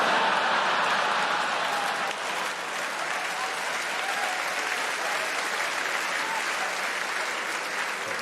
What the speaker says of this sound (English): Always the biggest round of applause of the night for that particular observation